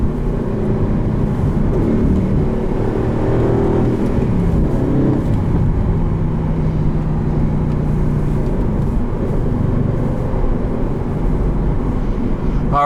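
The engine of a 2021 Aston Martin Vantage V8 with a manual gearbox and rev matching drones loudly from inside the cabin, its pitch rising and falling through a downshift.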